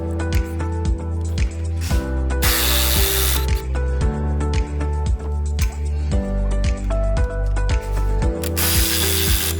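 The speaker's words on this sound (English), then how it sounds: "Remove the wheels and the lower and upper shock mounting bolts." Rear shock mounting bolts being removed on a 2013-2016 Ford Escape: loud, close ratchet clicking in rapid repeated bursts, with brief hissing spray-like noises in between.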